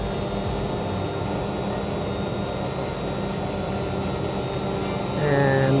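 A Hubsan Zino drone flies just after takeoff at Hollywood Cemetery, giving a continuous whining motor hum over a steady rush of wind-like noise. The hum rises a little louder near the end.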